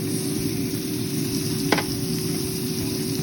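A steak sears in a hot pan with a steady, loud sizzle that runs throughout, plus one brief sharp crackle partway through. No one speaks.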